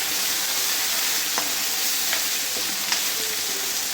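Steady sizzle of onion and tomato frying in a pan, with a few soft scrapes of a spoon stirring through the hiss; no voices.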